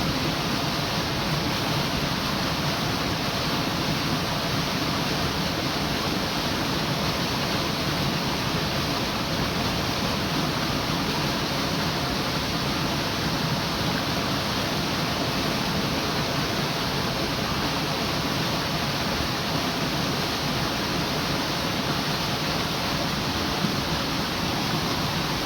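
Water from a forest stream rushes without pause, a steady dense hiss of flowing current that holds at an even loudness for the whole stretch with no voices.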